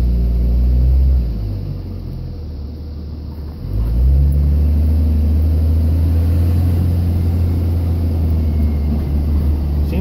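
A third-generation Cummins diesel truck with a 48RE transmission in limp mode, held in manual first and sitting still, gives a loud, steady low rumble that dips briefly, then settles back into a constant drone.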